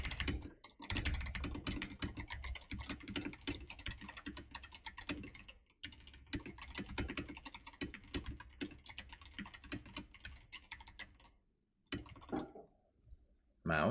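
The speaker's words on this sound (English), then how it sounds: "Keyboard." Keyboard typing picked up by a Fifine AM6 USB microphone with noise cancellation switched on: steady, dense clacking of keys with a couple of short pauses, a brief break near the end, then a few final taps.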